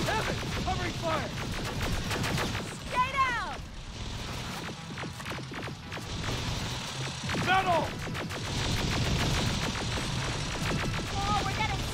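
Gunfire in the Terminator Resistance video game, a dense chaotic barrage of shots and laser-like zaps with crashes, mixed with game chatter and shouting voices throughout.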